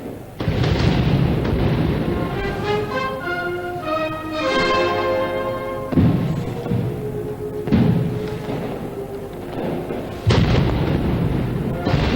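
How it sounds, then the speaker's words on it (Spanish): Castillo fireworks display at a Valencia falla celebration, palm and willow shells bursting in a continuous loud barrage of booms and crackling, with rolling explosions and sizzling trails overlapping throughout. "llegan esos momentos apoteósicos del castillo de fuegos artificiales"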